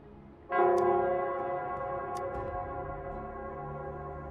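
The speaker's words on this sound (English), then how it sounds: "it's the Nell Squares bell" The Nell Square bell in the game Wuthering Waves rings once with a strong, sustained tone that slowly fades and hums on. No one speaks over it.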